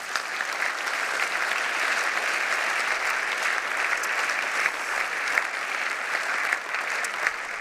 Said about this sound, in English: I will allow that was applause of congratulation to Pete on his appointment rather than a response to the vote.